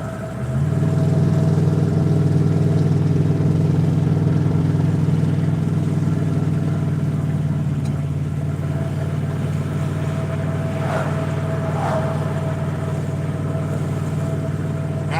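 A car drives along steadily, its engine and road noise forming a constant hum inside the cabin, a little louder at the start and then easing to a softer steady drone, with no talking.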